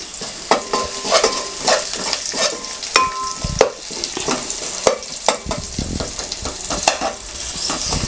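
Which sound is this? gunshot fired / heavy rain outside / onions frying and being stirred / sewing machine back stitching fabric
onions frying and being stirred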